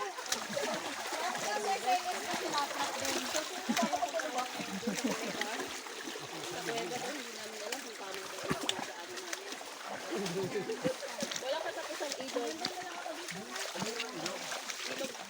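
A river flows and splashes around people wading through it, a steady broadband rush with irregular splashes throughout, close and continuous, while people talk over it.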